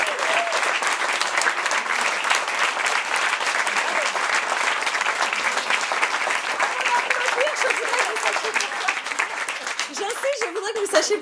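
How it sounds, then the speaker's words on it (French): An audience applauds at a Brazilian choral concert, a sustained wash of many hands clapping steadily throughout, with a voice rising near the end. "Je voudrais que vous sachiez pourquoi vous applaudissez."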